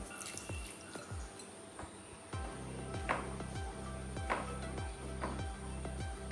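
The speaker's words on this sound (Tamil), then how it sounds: "கொஞ்சம் கொஞ்சமா தண்ணி சேர்த்து பிசையணும்" Water added bit by bit to wheat flour for poori dough, heard as repeated soft wet drips and squishes at an irregular pace, close and fairly quiet, with a faint steady hum underneath.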